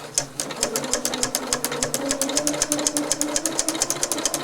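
A Janome 8077 sewing machine fitted with a Daisy Foot attachment stitches steadily, its needle clattering in a fast, even rhythm with a low motor hum underneath, close and clear with no talking.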